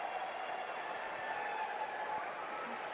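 A crowd cheering and applauding, a steady wash of clapping and voices heard at a distance, fairly faint and continuous with no clear speech over it.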